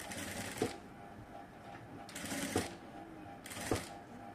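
Sewing machine stitching a front-cut kurti design, heard close as three short whirring runs of stitching separated by quiet pauses.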